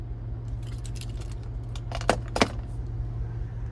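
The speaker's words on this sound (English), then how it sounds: "But here's the key fob with remote start." A Cadillac Escalade V-Series key fob with remote start jangles close by, a run of light metallic rattles peaking in two sharper shakes, over a low steady hum with no talk.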